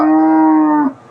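A Friesian cross dairy cow moos once at a Bogura cattle market, a loud, sustained, near call lasting nearly a second before cutting off, with no voices over it.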